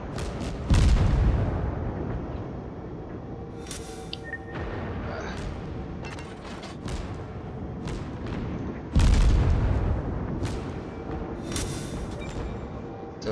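Naval guns fire aboard the Katori in World of Warships, two heavy booming salvos about eight seconds apart, each a deep loud blast that rolls off into a long rumbling tail, with fainter pops and clanks in between.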